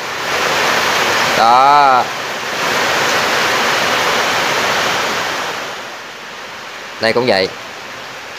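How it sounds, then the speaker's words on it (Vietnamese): Heavy rain pours in a dense, steady roar outdoors while fishing tackle is tied, with a short burst of speech early on and another brief voice near the end. "Mưa to quá"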